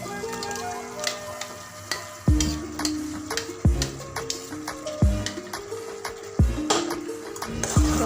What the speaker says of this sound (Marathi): याच्यावर आपण जो मसाला वाटलेला आहे तो टाकून घेऊया.